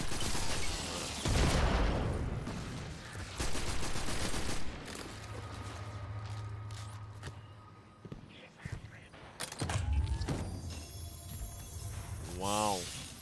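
Full-auto gunfire in the video game Destiny 2 rattles in dense, rapid bursts mixed with other game effects, loud at first and returning later, while someone talks over much of it.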